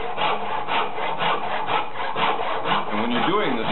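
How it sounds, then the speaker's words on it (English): Hand saw cutting wood while laying out a lamb's tongue profile, fast steady back-and-forth rasping strokes, close and continuous, with no talking. "this saw cuts really fast"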